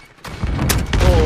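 Rapid bursts of gunfire in Call of Duty Warzone from an EM-2 assault rifle, dense and loud, building into sustained shooting with booming impacts and no talk.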